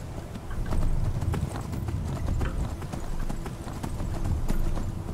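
Rapid rhythmic hoofbeats of a galloping horse in the video game Skyrim pound steadily and close, with a faint whinny-like tone underneath.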